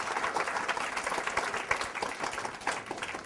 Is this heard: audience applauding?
yes